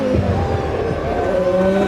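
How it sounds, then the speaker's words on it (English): Late-1990s Formula 1 racing with a McLaren Mercedes and a Stewart Ford on a straight: a steady, loud engine roar with high whining harmonics sustained throughout, no talk over it. "The McLaren Mercedes more than a match for the Stewart Ford down the straight"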